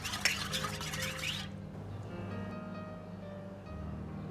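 A spoon stirs cornstarch into freshly squeezed winter melon juice in a bowl, brief soft scraping and clinking at first, then only a quiet background hum.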